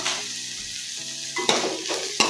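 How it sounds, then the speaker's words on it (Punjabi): Onions softened in a hot pan with green chillies and ginger sizzle steadily as a spoon stirs them, with two sharper scraping clatters of the utensil against the pan near the end. "ਥੋੜਾ ਜਿਹਾ ਇਹਨੂੰ ਵੀ ਭੁੰਨ ਲੈਣੇ ਆ 2 ਮਿੰਟ ਇਹਨੂੰ ਅਜੇ ਫਰਾਈ ਕਰਦੇ ਆ"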